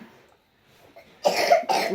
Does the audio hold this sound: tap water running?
no